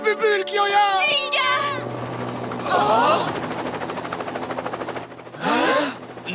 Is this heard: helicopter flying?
yes